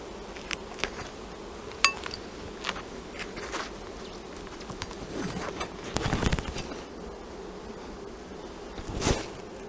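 Honey bees buzz around an open hive brood box, a low steady hum near and far with scattered close clicks and knocks of hive handling and a louder scrape near the end.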